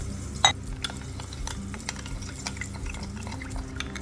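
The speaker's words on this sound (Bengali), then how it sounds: "এবার আমি এটাকে জল দিয়ে একটু গুলিয়ে নেব।" A yogurt and spice mixture is stirred with water in a bowl for a Bengali doi begun dish. Soft, faint scraping and small liquid clinks sound close by, with one sharper knock near the start.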